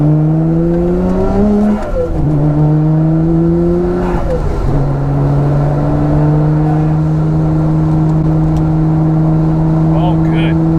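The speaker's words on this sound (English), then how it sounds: "I'm also running a full titanium Tomei exhaust with a Mines front pipe." A car engine with a full titanium Tomei exhaust and Mines front pipe hums with a deep, steady exhaust drone, its pitch rising and dropping twice early on before settling into an even rumble.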